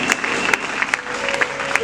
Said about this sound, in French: Nous acclamons pour elle.